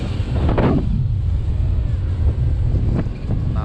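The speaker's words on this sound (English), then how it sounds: "guys can see it's blowing like crazy. The wind is moving really, really fast." Extreme wind roars loudly and continuously across the microphone, with heavy low buffeting throughout and a few brief gusting swells.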